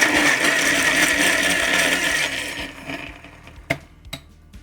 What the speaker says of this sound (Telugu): ఇప్పుడు 2 చిన్న టమాటాలని మిక్సీ జార్లో వేసి ఒక్కసారి మిక్సీ పట్టుకుందాం